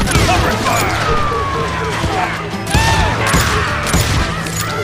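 Gunfire rattles through a Call of Juarez Gunslinger shootout in bursts of rapid shots and booms, with ricochet whines and a shouted voice mixed into the loud, busy action.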